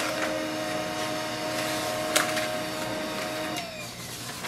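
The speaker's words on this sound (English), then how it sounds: "So printer will print a sheet that is the mobile device Wi-Fi connection guideline." A Pantum P2506W printer prints a Wi-Fi connection guide sheet with a steady mechanical whir and hum, a brief click midway, then a falling tone as the run winds down.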